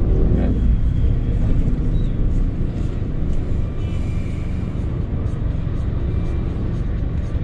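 Steady, loud low rumble of road traffic in the Philippines near a roofing project site, vehicle engine noise droning continuously with no distinct pass-bys.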